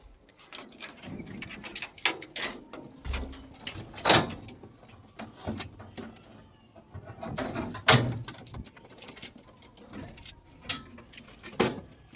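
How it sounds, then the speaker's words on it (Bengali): Pet pigeons let out of an opened net cage into the sun, with soft, low cooing mixed among scattered wing flutters and clattering knocks of the enclosure, fairly close and irregular over about twelve seconds without speech. "এই যে সব কটাকে খুলে দিলাম, এরা বাইরে আসুক।"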